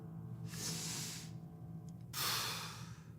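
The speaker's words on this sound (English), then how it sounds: "I want you to take a breath." A person taking a breath: one close, breathy inhale, then a second, stronger rush of air a moment later, heard alone over a faint background hum.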